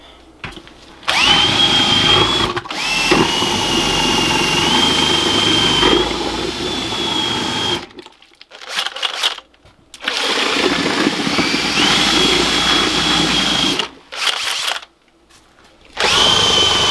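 A power drill fitted as a mixer churns a fermenting mixture with apple cider vinegar in a bucket, running in loud steady bursts of whirring separated by short pauses and gaps of quiet.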